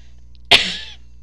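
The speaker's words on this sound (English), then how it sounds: "Sorry about that cough." A single sharp cough bursts out close to the microphone and tails off quickly, otherwise near silence.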